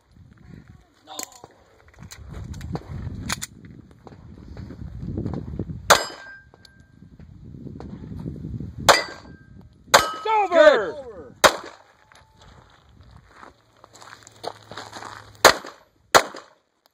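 Gunshots ringing off steel plate targets at an Ironman shooting stage match, sharp cracks followed by metallic clangs and one ringing, wobbling plate, spaced irregularly, with people talking in between.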